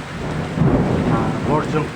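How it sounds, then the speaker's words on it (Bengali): A deep rumble of thunder rolls over steady rain, low and booming, swelling and fading across the two seconds. "বজ্রপাত হচ্ছে, বজ্রপাতের সেই শব্দ আমরা দেখতে পাচ্ছি।"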